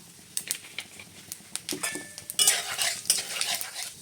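Panch phoron and two dried red chillies drop into a little hot oil for olive pickle, with scattered spoon-and-pan clatter followed by a brighter, sharper sizzle once they hit the pan.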